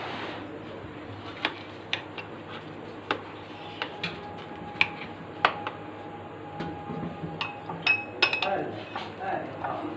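Mango ice cream being dished out, with a series of sharp, bright clinks from a spoon tapping a bowl at irregular intervals, and a quieter bed of scraping and handling underneath.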